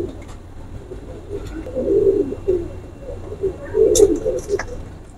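A male dab wala pigeon coos in a few low, throaty bursts, close by, over a faint background hum.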